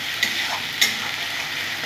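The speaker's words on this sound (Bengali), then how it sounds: "পেঁয়াজ আদা রসুন ভালো করে কষে নেব, যতক্ষণ না পর্যন্ত মশলা থেকে তেলটা সেপারেট হচ্ছে" Onion, ginger and garlic masala frying in a pan for a Bengali desi chicken curry, a steady broadband sizzle with two brief scraping stir strokes, close and alone.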